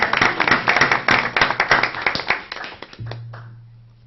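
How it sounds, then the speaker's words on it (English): Council meeting audience claps briskly in a close, lively patter for about three seconds before it stops abruptly, leaving a low steady hum. "Clap for a minute."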